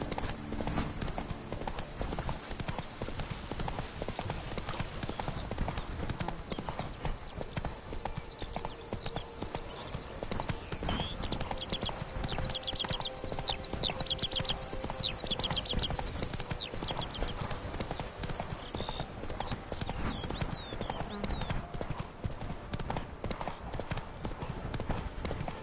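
Horse hooves galloping in The Witcher 3, a rapid continuous rhythmic clip-clop running the whole time, fairly close and steady, with a brief neigh and some talking in between.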